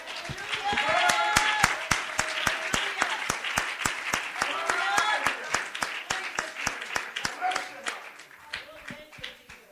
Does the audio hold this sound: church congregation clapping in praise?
yes